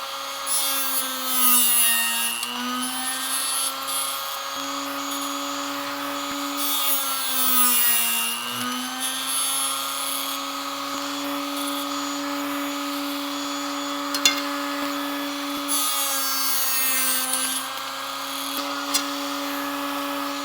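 Carbon arrow shafts being cut on a spinning blade, turned backwards into it while building target arrows: a steady high-pitched whining grind with a low hum, rising and dipping slightly as each shaft is worked, continuous and close.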